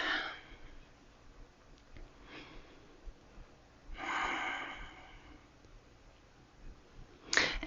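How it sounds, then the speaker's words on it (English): Slow, audible breaths during a seated stretch in a full-body stretching session, a few soft airy inhales and exhales spaced seconds apart, the longest in the middle and a sharper one at the end. "And breathe."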